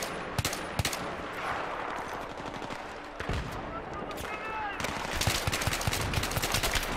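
Bursts of automatic rifle fire crack out in Battlefield 3 team deathmatch, rapid rattling volleys with sharp single shots between them, loud and close throughout.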